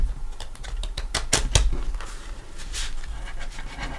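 Deck of tarot cards being shuffled by hand: a quick, close run of crisp papery flicks and riffling clicks lasting a few seconds.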